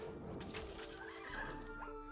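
Donkeys bray in a real-time strategy game set in the colonial era, a short, strained call heard over constant game ambience and running through the whole brief moment.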